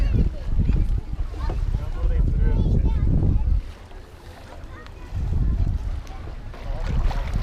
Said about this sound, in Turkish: Teknemiz gidiyor.